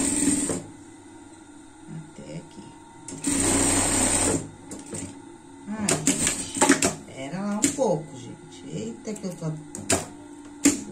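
A sewing machine runs in short bursts of motor whir and needle clatter while stitching the underarm seam of a frog-style pet costume, with a voice talking between and over the runs.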